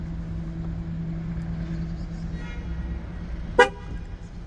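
A Ford C-Max sounds one short, sharp horn toot to confirm Bluetooth pairing of a tyre pressure sensor. It cuts in clearly over a quiet, steady low idling hum near the end.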